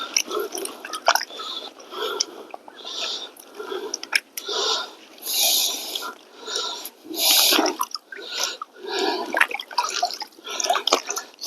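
Water sloshing and swirling in a gold pan while clay is being panned, with rhythmic washes and splashes repeating every second or two, close up and moderately loud.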